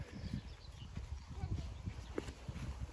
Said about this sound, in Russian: Пони называется.